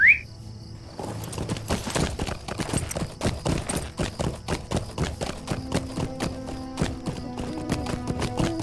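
A horse's hooves clip-clop at a steady trot in Lord of the Rings Online, a regular rhythm of light thuds over soft crickets and birdsong, with a chime at the start and a faint musical tone later.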